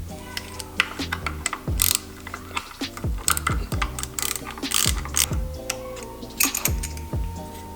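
Ratchet wrench loosening the turbo oil drain line on an Audi 1.8T engine, a close, rapid clicking in uneven bursts with short pauses between strokes, no talking.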